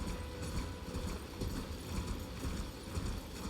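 Hooves of the spectral steed Torrent clip-clopping at a steady gallop in Elden Ring, a continuous rhythmic pounding set against low game ambience, with no talk over it.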